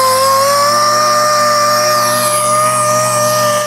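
A power sander works motorcycle parts from a salvaged Kawasaki ZZR 1100 under restoration, using 240-grit paper. It makes a close, loud, continuous whine that holds a steady tone with no pauses.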